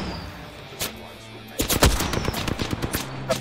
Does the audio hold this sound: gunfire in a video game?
yes